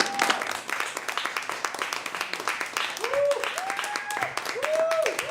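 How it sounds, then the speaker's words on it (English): An audience claps and cheers for the host of a live variety show, brisk uneven applause with whistles and loud whooping shouts rising over it throughout. "Keep the clapping going for your man, your host, Jeff Hyde."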